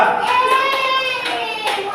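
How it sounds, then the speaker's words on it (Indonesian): A classroom full of people clapping steadily together for a group that has just presented, a dense patter of many hands with a few children's voices faintly mixed in. "Mari tepuk tangan untuk kelompok 2"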